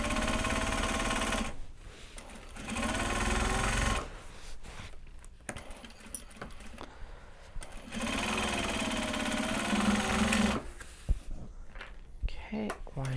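A sewing machine stitching a Japanese fabric tote bag, loud rapid bursts of stitching that stop and start, with pauses of handling noise and occasional clinks between runs.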